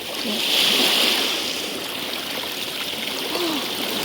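Cold spring water from a well flows out onto a beach and into the sea, a close, continuous gurgling trickle with occasional small splashes and a soft hiss running the whole time.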